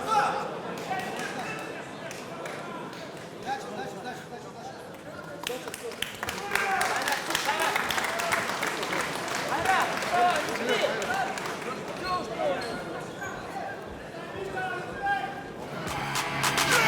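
Crowd applause and clapping for the winning fighter after a technical-knockout win at a combat sports event, a busy, sustained wash of hand claps and crowd noise running under an announcer's voice.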